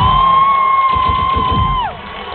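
A rodeo crowd in Massaranduba cheers and claps for a second-place rider, loud and close, over a sustained whistle-like tone that bends downward as the noise drops off near the end.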